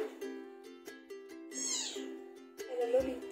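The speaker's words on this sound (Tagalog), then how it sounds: "So, yung mga pusa na nandirito, ayan si ano, Lolita." Newborn kittens and cats mew in a series of short, thin, repeated cries at close range, with a longer wavering call near the end and someone talking softly over them.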